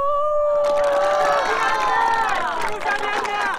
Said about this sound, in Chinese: 欢呼！